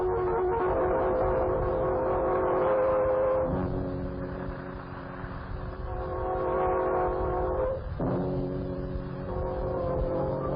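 A train in a vintage radio drama rumbles along with long, loud horn blasts sounding over the rolling clatter, the horn breaking off and returning in repeated wails.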